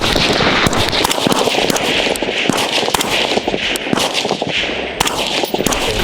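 AR-15 rifle fitted with a Surefire RC3 suppressor fires a run of sharp cracks at an outdoor range, loud close reports coming in quick irregular succession across several seconds.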